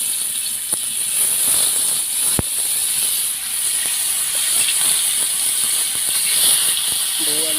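Fish sizzles in a pan of hot oil as a loud, steady hiss with faint crackling, a sharp clank partway through.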